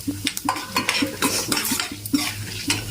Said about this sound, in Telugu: ఆయిల్ వేడెక్కింది కదా, 1 స్పూన్ మినపప్పు, 1/2 స్పూన్ ఆవాలు, 1/2 స్పూన్ జీలకర్ర, 1 స్పూన్ శనగపప్పు